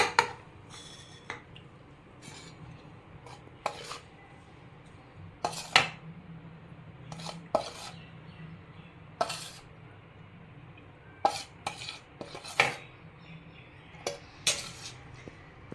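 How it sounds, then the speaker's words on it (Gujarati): Spoons and a metal pot clink and scrape as a ground buttermilk spice mix is scooped into a bowl in a home kitchen, sparse sharp knocks and taps over a quiet background. "હવે આપણે બાઉલમાં કાઢી લઈશું।"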